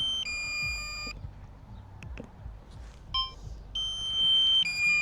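A drone's low-battery warning, flown over Wembley Central in London, sounds as repeated steady electronic beeps in two long bursts with a gap between them, over low background rumble.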